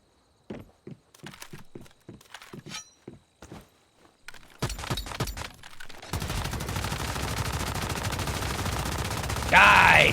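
Video game gunfire rattles off in a quick burst of single shots, then gives way to a dense, continuous roar of automatic fire that grows louder toward the end, with no voices.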